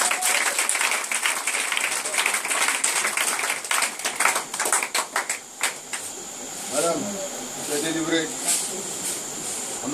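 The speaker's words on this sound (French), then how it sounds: "Est-ce qu'on peut acclamer le Seigneur?" Church congregation applauding and cheering to acclaim the Lord at a deliverance service, dense crowd clapping for several seconds, then thinning out as voices take over.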